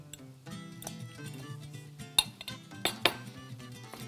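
Boiled pasta tossed in a pan with metal utensils, giving a run of soft scraping and stirring clatter punctuated by a few sharp clinks of metal against the pan, fairly close and without talk.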